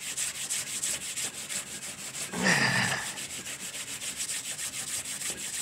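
Someone scrubs scaly copper with steel wool, making a steady series of rasping strokes, then one louder, longer scour in the middle before the quieter rhythmic rubbing returns.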